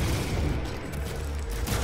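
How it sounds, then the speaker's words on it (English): Explosions and gunfire from the Doom PC game, rolling as a dense, steady barrage of booms and shots that fills the whole stretch with no gaps and no talk. "Can I get a well-placed explosion here?"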